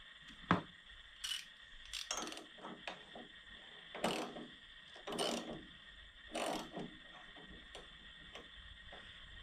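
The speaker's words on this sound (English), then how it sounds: "I'm going to take this generator pulley off because you got shims in here." A 19mm socket wrench ratchets against the generator pulley nut on a 1972 Volkswagen Beetle engine, giving close, bursty clicking and metallic rattles in uneven spurts with short pauses between.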